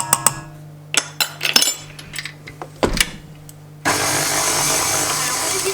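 Heavy cream and liquid vanilla being mixed into coffee cake batter: sharp clinks of a utensil against the bowl, then a steady loud whir of continuous mixing, with no speech.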